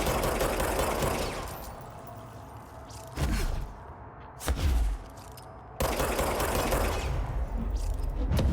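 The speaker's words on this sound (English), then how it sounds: "let me just shoot this world tree here" Bursts of gunfire from shooting in the video game Control, loud rapid volleys that cut off abruptly, separated by short gaps and two brief whooshing blasts.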